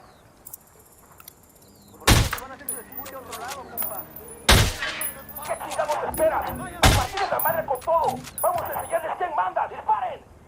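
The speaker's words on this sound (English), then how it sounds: "Eyes on a cartel heavy machine gunner." Gunfire in the video game Ghost Recon Wildlands during a fight with a cartel heavy machine gunner: three loud, sharp shots land a few seconds apart, with voices talking in between.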